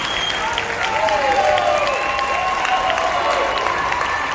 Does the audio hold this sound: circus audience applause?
yes